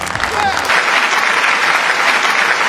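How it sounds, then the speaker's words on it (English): A small crowd on an Amsterdam street claps loudly and steadily, a continuous close burst of applause that follows a brief voice at the start. "Clap on for yourself!"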